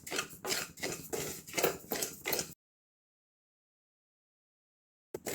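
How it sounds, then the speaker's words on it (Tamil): Kodo millet dry roasting in a pan, with a quick run of rhythmic scraping and rattling strokes as the grains are stirred, close and moderately loud, then a long stretch of silence before a brief return. "அடுத்ததான் நம்ம வந்து வரகை வறுக்க போகிறோம்."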